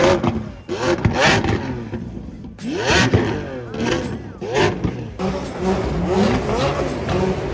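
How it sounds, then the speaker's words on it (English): Cars rev their engines at a street car meet on the Las Vegas Strip, with repeated loud, close revving bursts rising and falling, overlapping one another, and voices in the background. "Everybody's revving it."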